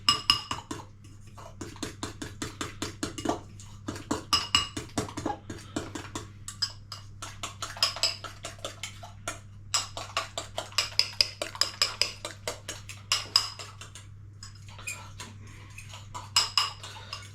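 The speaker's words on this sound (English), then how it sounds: "Give it a good whisk." A whisk beats Yorkshire pudding batter in a bowl, producing rapid rhythmic metallic clinks and scrapes in uneven bursts with brief pauses, close and crisp over a low steady hum.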